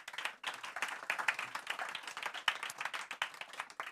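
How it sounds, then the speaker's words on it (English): An audience claps warmly, a dense patter of many hands close by, holding steady for a few seconds without voices. "Please give a warm applause for Kwesi."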